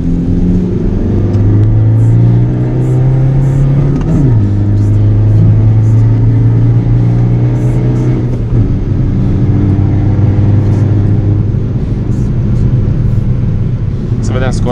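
A Skoda Fabia 1.9 TDI with a stage 2 tune accelerates hard, its loud, steady diesel drone climbing in pitch, dropping twice at gear changes and pulling up again.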